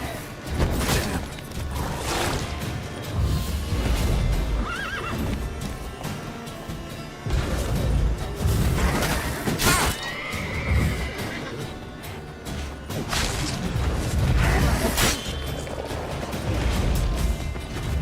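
Roach the horse in The Witcher 3 neighing and galloping amid game sounds, with whinnies rising over heavy thumping hooves, clanking and crashes, loud and continuous, with a voice speaking briefly.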